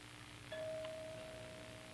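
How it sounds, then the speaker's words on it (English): A single doorbell ding rings out in an apartment in a 1987 television drama, one clear sustained tone that slowly fades over quiet room noise. "Somebody's at the doorbell"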